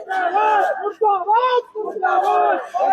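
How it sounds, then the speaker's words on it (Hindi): A protest crowd in Nainital chants slogans in unison, with loud rhythmic group voices rising and falling in repeated phrases, close and continuous. "मुर्दाबाद के नारे लगते हुए"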